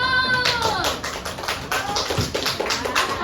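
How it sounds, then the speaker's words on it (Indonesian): Children in a classroom clap their hands in a quick, even rhythm of sharp claps, with faint voices in the background. "Baru tepuk tangan dulu."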